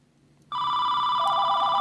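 A work phone starts ringing suddenly with a bright electronic ringtone, loud and near, its repeating tonal pattern continuing steadily with no talking.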